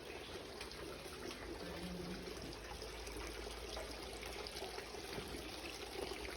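Water trickles steadily in the Moorish-style fountains and channels of the Palacio de Mondragon, a faint, continuous splashing with no voices over it.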